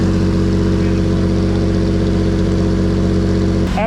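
A 1969 Jeep CJ5 Dauntless engine idles steadily with a loud, even rumble that holds throughout, ending in a brief clatter of disturbance at the very end.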